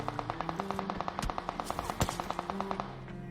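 Rapid automatic gunfire in the mobile battle royale game BGMI crackles in quick regular bursts, with one heavier shot near the middle. It sounds fairly faint and steady, with no voices over it.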